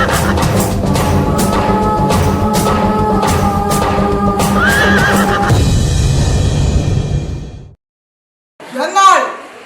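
A loud horse neigh sound effect rings out during a school chess performance, a long harmonic whinny lasting several seconds, then a pause and a shorter, fainter whinny at the end.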